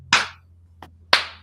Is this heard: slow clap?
yes